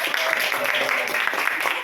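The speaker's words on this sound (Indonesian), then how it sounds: "Iya, tepuk tangan. Tepuk tangan untuk kita semua." Group applause from a classroom gathering in Indonesia, a steady wash of many hands clapping together for a short burst with no talk over it.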